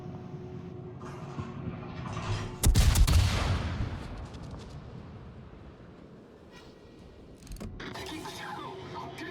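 Naval gunfire in a video game: a loud, booming salvo bursts out partway through and decays into a long rumbling roar, with a second, softer rumble near the end over steady background engine noise.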